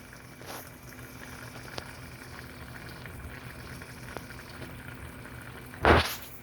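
A low, steady bubbling simmer of liquid in a pot for Mongolian beef fills the background, broken by a few faint ticks and one louder clunk near the end; no one speaks.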